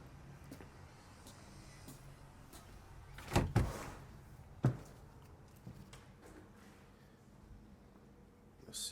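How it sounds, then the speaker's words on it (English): A house's front door is opened, giving a couple of sharp close clunks and a rattle midway through, then a fainter knock, over quiet outdoor background with no talking. "Okay, let's go in the front door."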